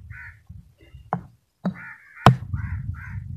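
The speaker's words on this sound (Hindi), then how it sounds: "ये देख सकते हैं कौवे भी इधर भाग रहे हैं" Crows caw around a bohar tree in Pakistan, giving several harsh, nasal calls in short bursts, some close and loud, with a few sharp knocks between them over low background rumble.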